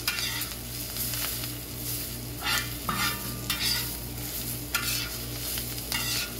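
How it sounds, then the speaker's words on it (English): Seasoned cabbage is stirred on a discada over the heat, with a steady sizzle broken by several bursts of scraping spatula strokes and metal clinks against the wide steel pan. "And just give it a good stir to incorporate everything together."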